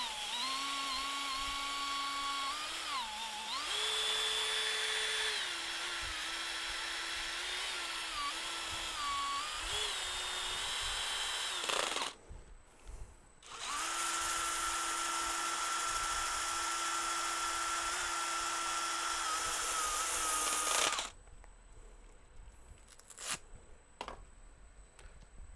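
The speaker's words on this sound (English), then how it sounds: "let's get this last bit sanded off." A power sander works a cherry wood bowl in a steady, high whine that dips and rises in pitch, stops briefly around the middle, runs again, then cuts off, leaving quiet rustles.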